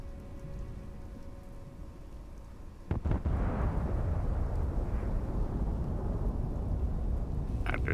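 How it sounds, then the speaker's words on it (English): A nuclear explosion in the video game Fallout 76 erupts suddenly after a stretch of falling rain, its booming blast followed by a long, heavy roar and rumble, with rain continuing underneath and a crackle near the end. "Oh yeah, that was a nuke."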